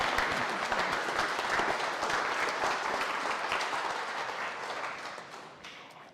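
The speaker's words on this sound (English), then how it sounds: "Give him a good round of applause" An audience at a presentation event applauds as an engineer is introduced, a steady wash of many hands clapping that holds for several seconds and then slowly tapers off.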